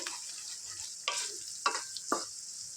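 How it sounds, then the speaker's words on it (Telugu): Ginger garlic paste frying in oil, a soft sizzle broken by three sharp stirring scrapes and spatters, close and moderately quiet, no talking. "అల్లం వెల్లుల్లి పేస్ట్ పచ్చివాసన పోయేంత వరకు ఆయిల్లో చక్కగా ఫ్రై చేసుకోవాలి"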